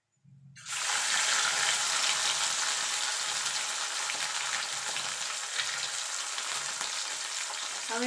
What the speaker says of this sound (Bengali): এবার বাকি মাছগুলো আমি ভেজে নেব